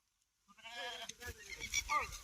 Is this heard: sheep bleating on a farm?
yes